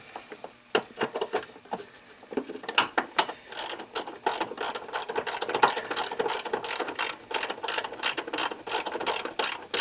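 A ratchet tightening a bolt on a Lincoln Continental voltage regulator, with rapid, close, loud clicking that comes in short bursts and then runs continuously.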